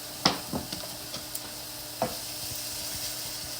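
Onions cooking gently over moderate heat in a pan, a soft continuous sizzle with a few sharp spoon taps and scrapes early on, close and fairly quiet.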